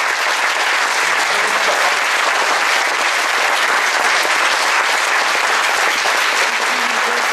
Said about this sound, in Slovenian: Spoštovano občinstvo, podprimo založnike z velikim aplavzom